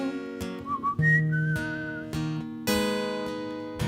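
A person whistles a short melodic phrase of sustained and sliding notes, clear and close, over a backdrop of bright harmonic tones.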